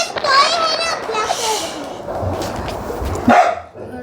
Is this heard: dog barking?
yes